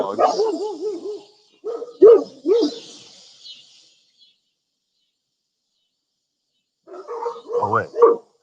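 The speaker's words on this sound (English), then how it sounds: "There's the dog." A dog barks outdoors at a Labor Day campsite, a run of several loud, close barks followed by a pause and then another cluster of barks.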